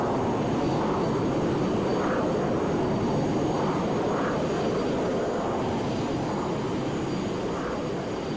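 Simulated airliner jet engines on a takeoff roll in Microsoft Flight Simulator X, a steady broad engine roar at moderate level with slow rhythmic swells, no talking.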